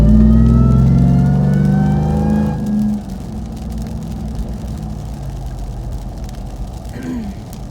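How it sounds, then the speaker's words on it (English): Dodge Hellcat at a car meet in a parking lot, its high supercharger whine rising loudly over the engine and then dropping away to a low idle rumble with light rain. "Maybe you can hear that Hellcat whine."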